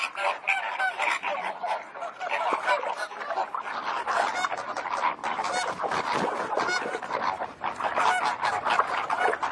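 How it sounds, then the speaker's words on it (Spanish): A flock of flamingos calling in spring, a dense, continuous chorus of loud nasal honking and gabbling from many birds at once, overlapping without pause. "Los flamencos son aves muy sociables"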